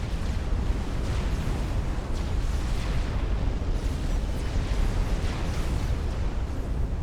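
A battleship blows up in Supreme Commander with a sustained, loud, rumbling explosion that roars continuously for the whole stretch, thick with low booming and crackling bursts.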